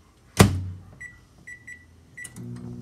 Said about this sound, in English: I'm gonna start it in the microwave just for about 3 minutes